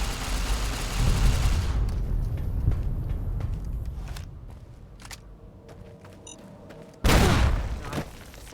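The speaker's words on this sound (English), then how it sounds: "I see a bomb that needs exploding." A bomb blast in Fallout: New Vegas, with a loud rumbling explosion at the start that decays into scattered debris and crackles, then a second sharp, heavy boom near the end.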